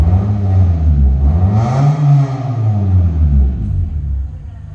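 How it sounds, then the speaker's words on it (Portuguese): A 2005 Honda Civic with an RR Performance exhaust revs hard and close, its deep rumbling note climbing and falling through one long throttle sweep before settling back to idle. "Um ronco gostoso, um ronco grave, nada de agudo."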